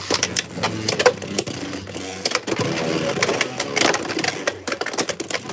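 Beyblade tops clatter and scrape in a stadium during a House Hammer versus Perseus Dark battle, with repeated sharp clicking collisions and a steady metallic whirr running throughout, fairly loud and close.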